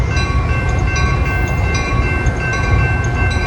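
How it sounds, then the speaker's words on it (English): A passenger train rolls into a station platform, a steady low rumble and rolling wheel noise with faint high squeals and tones running throughout, loud and close. "PNSF train number 1304 to Main Street Downers Grove, Chicago Union Station is now arriving."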